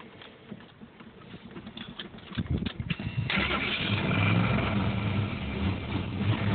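Vehicle engine cold start, a rapid chatter of cranking that catches and rises into a loud, steady idle that holds to the end, with no talking.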